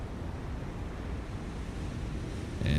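Steady rushing wash of water as a submarine surfaces in the naval game Cold Waters, a broad churning roar that swells slightly louder at the end.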